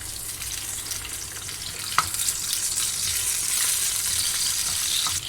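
Steady sizzling and crackling of red chillies frying in hot oil, close and continuous, with a brief clink of a utensil partway through.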